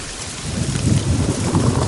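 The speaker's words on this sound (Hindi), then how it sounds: "काली अंधेरी घनी रात और उस पर तेज बारिश।" Heavy rain pours steadily on a dark night, a dense continuous roar with low rumbling thunder swelling underneath, loud and close throughout with no voices.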